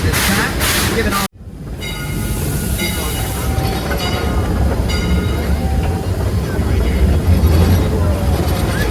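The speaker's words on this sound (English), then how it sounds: "our train should be crossing the sharpest curving passenger carrying trestle in all North America" A Heisler geared steam locomotive runs over a sharply curved passenger trestle on the way to Bear Mountain, its steady rumble and rolling noise continuous and close after a brief cutout, with faint voices in the background.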